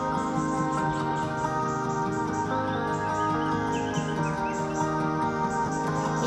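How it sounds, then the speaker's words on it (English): Birds chirp and trill on a spring morning over a steady outdoor hum, with a constant insect-like buzz running throughout. "You could hear the birds chirping in the background"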